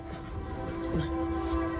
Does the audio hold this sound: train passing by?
yes